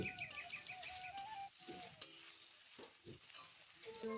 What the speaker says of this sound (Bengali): সামান্য নুন দিয়ে আবারও ভালোভাবে মিশিয়ে নিচ্ছি।